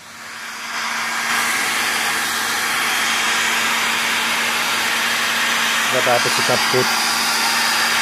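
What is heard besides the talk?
air blower drying motorcycle fairings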